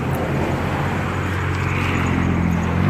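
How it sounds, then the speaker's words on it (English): Steady road traffic rumbles past close by, a continuous dense roar of passing cars with no gaps or voices. "there's too much traffic"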